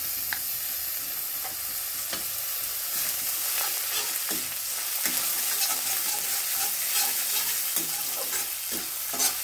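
Crushed garlic paste, six or seven cloves, sizzles steadily in hot oil in a pan, a dense close hiss with scattered pops and occasional scrapes of stirring throughout.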